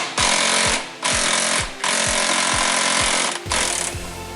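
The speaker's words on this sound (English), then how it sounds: "Now on the bottom of the bumper there is 4 bolts with 10mm socket that we need to remove." Impact wrench or power ratchet zipping out 10mm bolts from the underside of a rear bumper cover on a 2006–2012 Hyundai Santa Fe, in loud repeated bursts of about half a second with brief pauses, close up.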